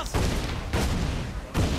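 Mortar fire in Assassin's Creed Freedom Cry, three heavy booming blasts spaced under a second apart amid dense battle noise.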